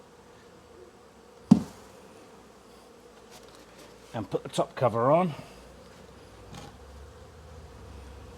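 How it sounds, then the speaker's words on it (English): A swarm of bees hums steadily at the hive during a first inspection, staying low in the background. A sharp knock and a short burst of handling noise cut through, and a person speaks briefly over the buzzing. "and then we'll knock these bees into the hive"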